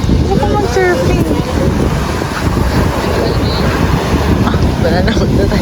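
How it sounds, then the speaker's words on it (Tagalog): Ocean surf rolling onto a Zambales beach, a steady loud wash of breaking waves buffeted by heavy wind noise on the microphone, with faint voices nearby. "Maganda yung alon"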